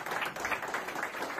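Audience applause at a Marathi community foundation event, a dense steady patter of many hands clapping through the short stretch with no voices over it.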